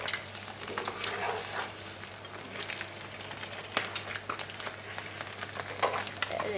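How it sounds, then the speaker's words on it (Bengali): Quail eggs fry with onion in a pan, giving a steady close sizzle and crackle with scattered pops and the occasional scrape of stirring. "এর জন্য পেঁয়াজের সাথে ডিম সিদ্ধ করে এমনি পেঁয়াজ দিয়ে ভাজি করবো"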